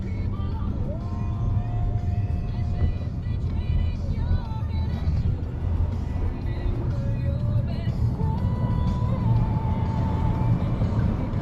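Car interior noise on a road trip through the Mabouya Valley near Dennery: a constant low engine and road rumble, close and steady, with faint voices and some tonal sounds drifting over it.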